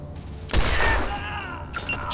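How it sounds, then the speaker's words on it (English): A single heavy shotgun blast from Wasteland 2 booms close and loud, then rings out into a decaying tail with some lighter game sounds after it. "Shotgun to the face."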